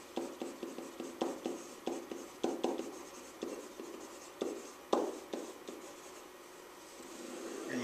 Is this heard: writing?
yes